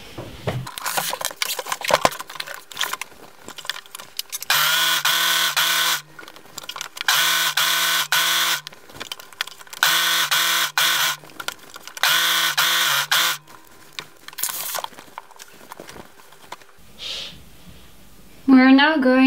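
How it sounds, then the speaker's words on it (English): An overlock serger runs along a garment seam in bursts of rapid, loud mechanical stitching, four or five runs of a couple of seconds each separated by pauses and handling clicks. "I'm actually just gonna go over it with an overlock or a serger"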